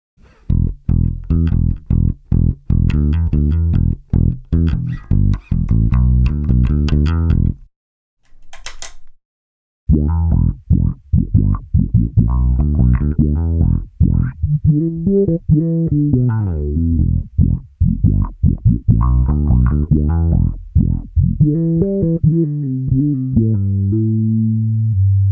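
Electric guitar played through an effects pedal, a series of picked notes and chords with a sustained, processed tone, a brief pause, then more bending, wavering phrases, loud and unaccompanied.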